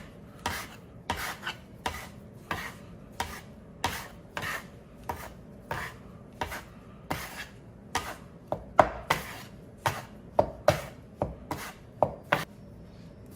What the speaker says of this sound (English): get my dough knife in here and start folding things in